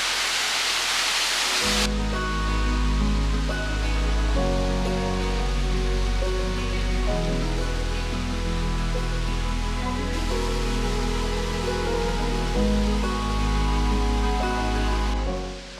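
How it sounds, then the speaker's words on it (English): Waterfall along a road on the Atlantic coast, a broad rushing roar heard clearly alone for about two seconds before loud music takes over and buries it. "I can hear the waterfall"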